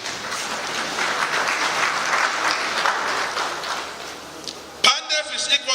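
Audience applause at a PANDEF regional meeting in Yenagoa, a dense patter of clapping for about four seconds before it thins out and a voice speaks.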